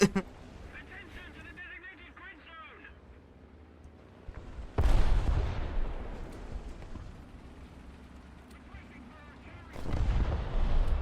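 An M46 tank cannon firing APCBC rounds in War Thunder: two heavy, booming shots about five seconds apart, each with a long rumbling decay. Engine noise and a talking voice come before the first blast.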